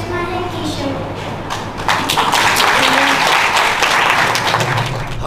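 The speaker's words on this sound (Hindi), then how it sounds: "दोनों के लिए तालियां होंगी" Audience applause rings out for two children at a Sanatan children's programme, beginning after a short stretch of voices and swelling into loud, steady clapping that runs to the end with talk continuing over it.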